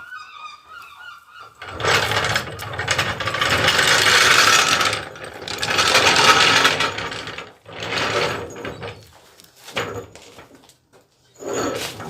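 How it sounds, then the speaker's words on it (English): A trolley jack rolls across the floor toward a Harley Davidson motorcycle, its wheels and metal frame rattling and clanking in several loud, uneven bursts separated by short pauses. "you're going to bring the trolley jack over. You'll need to wheel it."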